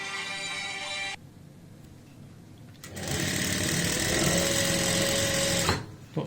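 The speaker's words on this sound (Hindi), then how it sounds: "ये देखिए हम पाइपिंग के साथ साथ में यहाँ पे सिलाई लगा रहे हैं इस तरीके से" Sewing machine stitching fabric along piping on an apple-cut kurti, heard close up as a short whirring burst, a pause, then a longer steady mechanical run that stops abruptly.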